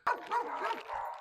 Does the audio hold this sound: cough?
no